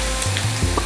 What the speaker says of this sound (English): In a big flame you can fry so that it will get roasted.